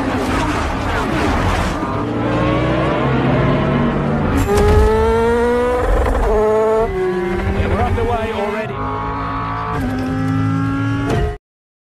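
Race cars launch at the start of the 24 Hours of Le Mans in a film, engines revving hard with rising and falling pitch sweeps as several cars accelerate close by, loud throughout, with a mix of voices and noise early on.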